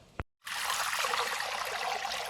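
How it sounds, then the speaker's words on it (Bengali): Water poured into a cooking pot to boil biryani rice: a brief clink, then a steady, close, rushing stream of water that keeps flowing to the end. "এবারে রাইসটা সেদ্ধ হবে, বিরিয়ানি রাইস। জল দিয়ে দিচ্ছি।"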